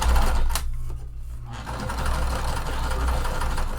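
Sewing machine stitching vinyl to fabric on a regular stitch length, a fast, even mechanical whir with a brief pause before the motor resumes steadily.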